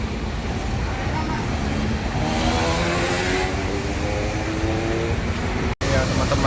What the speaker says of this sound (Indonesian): bus yang Sinarjaya lulusan ke Jogja akan berangkat